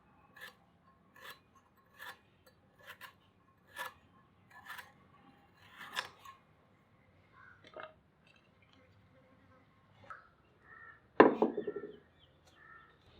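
Knife cutting a peeled carrot into small pieces, a series of separate soft chopping taps spaced about a second apart, close and fairly quiet, ending with a louder scraping clatter.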